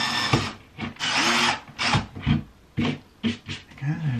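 Power drill boring into a garden shed wall to fit guitar brackets, heard in a series of loud, close bursts of whirring with short pauses between them and no talk.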